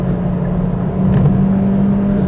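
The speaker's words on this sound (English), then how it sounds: "Stick it in sport mode on the motorway and put my foot down, and you get some shove" A Kia Proceed GT-Line in sport mode pulls hard on the motorway, its engine note droning steady and loud from inside the cabin with a rising whir.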